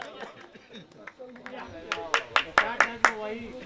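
A live audience at a Hindi-Urdu comedy show breaks into a burst of clapping, sharp claps building to a rapid run of loud hand claps, with chatter and a voice beneath.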